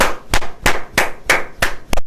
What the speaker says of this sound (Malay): Macam kita tepuk tangan tau.